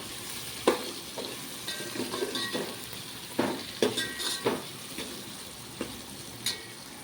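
A spatula scrapes and knocks against a frying pan in irregular strokes over a faint sizzle of mixed vegetables with turmeric and salt cooking for pulao.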